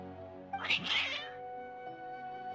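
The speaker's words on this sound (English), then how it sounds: "Your cats seem pretty worked up." Agitated cats caterwaul in Genshin Impact, a loud, strained yowling burst that rises and fades within about a second over a steady tonal game music bed.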